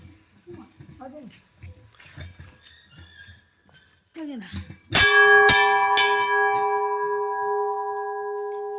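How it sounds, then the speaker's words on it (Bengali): A temple bell is struck at a Durga shrine in Mirik, ringing out loud and close with a long, shimmering sustain and a second strike right after, following a stretch of speech. "ঘন্টা বাজিয়ে নিলাম।"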